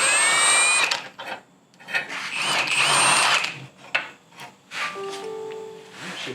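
A power tool whirs in repeated short bursts while 15 mm nuts and 13 mm bolts are taken off a Wildcat machine with a bad bearing, mixed with close scraping and rattling of metal parts.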